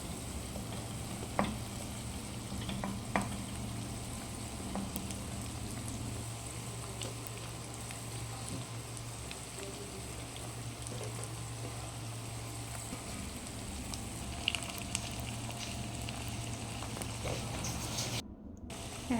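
Okra pieces frying in oil with curry leaves and green chillies, a quiet steady sizzle with a low hum beneath and a few faint clicks, heard close with no voices.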